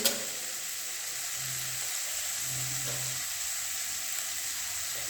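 Paneer chilli ingredients, seasoned with ground black pepper, fry in a pan with a steady, close hissing sizzle. The sound holds even and continuous throughout, with no voices over it.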